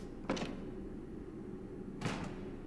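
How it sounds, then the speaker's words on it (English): An animatronic's footsteps in the horror game FNAF Into The Pit land as two heavy, muffled thuds almost two seconds apart, over a steady low background rumble. "Oh, I did hear footsteps."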